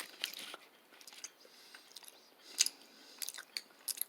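Gummy candy is chewed up close. The wet, sticky chewing and small squishy bites come in irregular bursts and stay quiet, with no talking.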